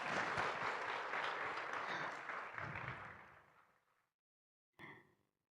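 A crowd at a forum applauds the Indonesian Minister of Religious Affairs steadily, dense clapping that gradually fades out, followed by a short burst of sound after a pause; recorded at a distance.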